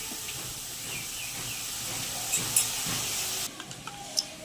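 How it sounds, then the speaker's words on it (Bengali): Spice paste sautéing in a pan for a Bengali doi begun (eggplant in yogurt), a steady close broadband sizzle and hiss with faint stirring scrapes and a few small pops toward the end. "মশলাটা ভালো করে কষবো।"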